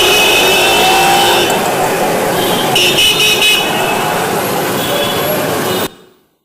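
Loud street traffic in India: a dense, continuous roar of cars, buses and trucks with repeated honking horns layered through it, ending abruptly.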